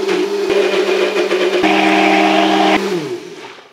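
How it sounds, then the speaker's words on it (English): A blender purees arugula pesto with garlic, olive oil and a little lemon, its motor whirring in a loud, steady whine that drops in pitch and fades as the blades spin down at the end. "And we'll blend this up."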